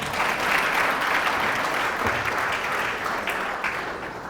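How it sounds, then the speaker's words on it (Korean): Warm audience applause during a talk by a physical education teacher, a steady burst of many hands clapping for several seconds, moderately distant and fading slightly at the end. "박수 한번 쳐주세요."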